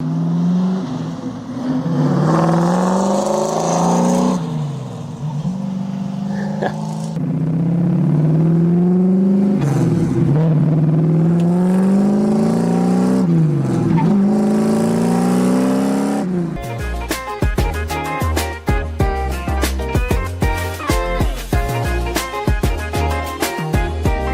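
A yellow 1970 split-bumper Z28 Camaro engine revs up and falls back again and again, loud and close, before giving way to a busier, choppier stretch of sound.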